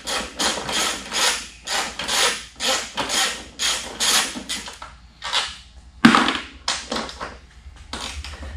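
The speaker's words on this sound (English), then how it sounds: "you're going to take your 12 millimeter, you're going to loosen up these front two bolts for your rack" A 12 mm wrench loosens the rear rack bolts on a Genuine Buddy scooter, giving a close, quick series of rhythmic ratcheting clicks in short bursts with brief pauses, no talking.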